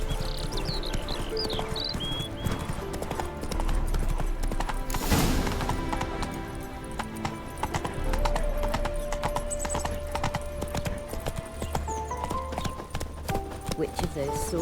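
Roach, the horse in The Witcher 3, gallops with rapid rhythmic hoofbeats and a brief whinny, loud and close, while voices talk and game music plays underneath.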